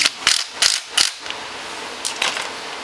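A ratchet tightens bolts on the front brake of a Can-Am Maverick X3 XMR, giving four quick, close bursts of clicking, a pause, then two more.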